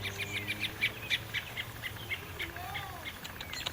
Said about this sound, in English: I think those other birds are freaking out.